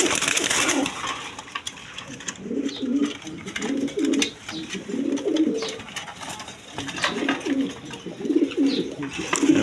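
Pigeons cooing in a repeating series of low, rolling calls with brief pauses between, close and fairly quiet, with occasional faint rustles and clicks around them.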